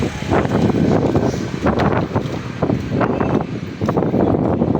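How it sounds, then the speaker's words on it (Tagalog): Strong wind roars and buffets the microphone in continuous gusts, loud and close, with no voices. "Mahangin dito, grabe. Ang sarap ng hangin dito."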